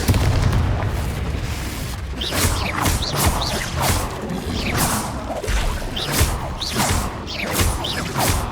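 Repeated Confringo spell blasts and combat effects in Hogwarts Legacy, a rapid series of booming impacts and whooshing magical bursts roughly every second, loud and busy over a rumbling game soundscape.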